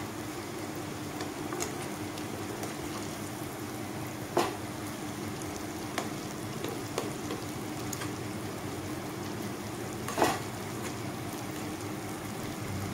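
Pakan pitha cakes fry in hot oil with a steady, dense sizzle and bubbling that holds even throughout, broken by a few brief sharper crackles.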